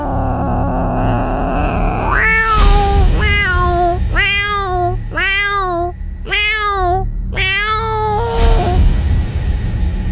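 Several cats yowl in a series of long, drawn-out, wavering meows, loud and close, repeated five or six times in a steady rhythm over low rumbling background noise.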